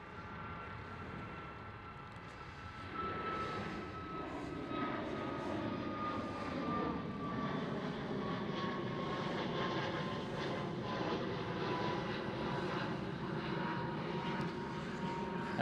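Ryanair airliner at Schiphol Airport in Amsterdam, a distant jet engine rumble that swells after a few seconds into a sustained roar with a faint whining tone sliding slowly downward.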